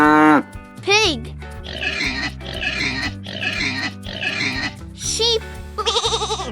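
Pig oinking in a set of four or five rough grunting bursts, each about half a second long, over a bouncy children's music backing, with a brief spoken word at the start and end.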